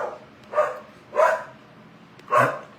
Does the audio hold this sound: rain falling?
no